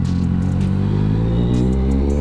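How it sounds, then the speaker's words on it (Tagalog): An NK400 big bike motorcycle engine revs hard and close, a loud, steady, throaty roar with a deep rumble that holds throughout. "Ang lakas ng makina!"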